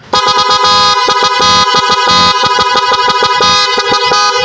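A loud car horn, wired for proper amperage, blares in rapid repeated honks, short bursts alternating with a few longer blasts, close and harsh.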